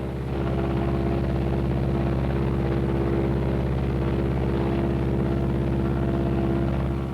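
A Martin B-26 aircraft engine runs with a steady, heavy droning hum and propeller throb, holding loud and close throughout as the propeller RPM is being reduced.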